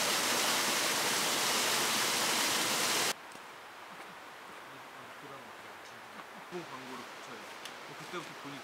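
Waterfall pouring as a loud, dense hiss of falling water that cuts off abruptly after about three seconds, leaving faint ambient sound with scattered soft noises.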